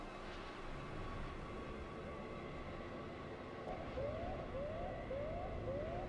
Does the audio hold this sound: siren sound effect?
yes